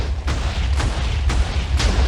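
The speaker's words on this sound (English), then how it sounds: "I was afraid that the TNT block was going to get up there and destroy one of them." TNT blocks detonating in Minecraft, a series of four sharp booming blasts spaced roughly half a second apart over a low rumbling background, loud and close with no voices.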